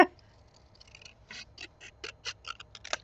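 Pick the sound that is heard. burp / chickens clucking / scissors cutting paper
scissors cutting paper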